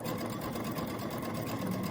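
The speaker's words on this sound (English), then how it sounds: "It'll stitch a straight stitch down the left-hand side, and then it'll do a zigzag as it heads over to the right to finish off that edge." A sewing machine stitches an overcast zigzag edge on a napkin, a steady close mechanical whir with rapid even needle clatter running throughout without pause.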